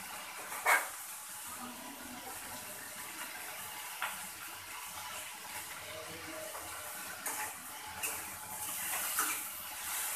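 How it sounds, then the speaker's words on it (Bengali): Water pours steadily into a pot of vegetables for sambar, a continuous close rushing hiss with a few small splashes and clinks along the way. "এবার এর মধ্যে দিয়ে দিচ্ছি জল।"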